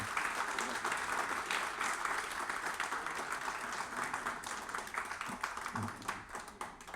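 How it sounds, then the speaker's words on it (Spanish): Sustained audience applause at a commemoration event in Chile marking the Algerian Revolution, steady dense clapping from a crowd filling the whole stretch at an even level, with some faint voices mixed in. "Un gran aplauso y un gran reconocimiento"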